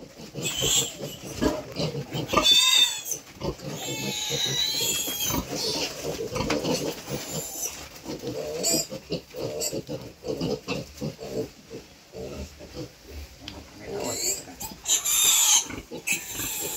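Pigs being caught for vaccination squeal, grunt and oink in loud, ragged bursts, shrill screams rising over snorting, with people talking in Spanish intermittently underneath.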